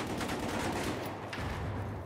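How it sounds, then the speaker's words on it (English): Battlefield 4 gunfire crackles in rapid overlapping bursts from somewhere off at a distance, a steady fusillade of sharp shots running through the whole moment without any voices. "There's gunshots coming from somewhere."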